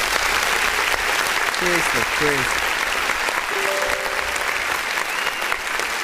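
Steady applause and crowd noise fill the whole stretch, with a brief voice speaking over it midway.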